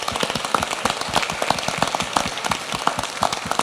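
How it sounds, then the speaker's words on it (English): Audience applause fills a large conference hall at an international AIDS plenary, steady and dense from start to finish at moderate loudness, with sharp individual claps standing out from the wash. "I'd like to applaud you"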